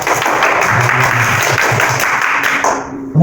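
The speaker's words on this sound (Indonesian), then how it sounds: "Tepuk tangan." A sixth-grade class claps together in a classroom, a loud, dense burst of applause that holds steady and then cuts off abruptly near the end.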